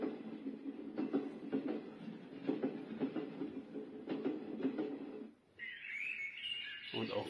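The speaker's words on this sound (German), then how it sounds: "Eisenbahn hört man auch raus" Rail traffic from a train rolling on its tracks, played as a nature sound through the small Bluetooth speaker of a dino-egg night-light star projector: a steady low rumble with rhythmic clatter for about five seconds, then a brief dip and bird-like chirping.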